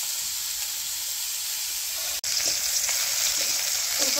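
Lightly boiled cauliflower fries in a pan for a vegetarian curry. A continuous, fairly loud sizzling hiss is heard up close, cut by one brief break midway, with no speech.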